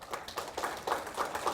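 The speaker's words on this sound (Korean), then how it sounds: "큰 박수로 맞아주시기 바랍니다." Audience applause at a Korean food and drug safety open forum, welcoming a presenter from the Rural Development Administration; a burst of hand clapping, moderately distant and steady for under two seconds, with no talk over it.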